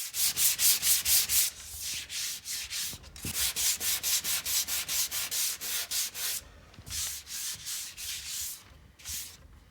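Hand sanding of interior woodwork with the grain: a steady run of close, loud rhythmic rasping strokes, back and forth in an even pulse with a couple of short breaks, no voices.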